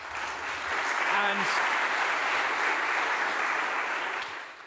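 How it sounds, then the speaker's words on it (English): A round of audience applause at a research infrastructures panel swells into steady, dense clapping and holds before fading, with a brief spoken word at the start. "a round of applause for Jens"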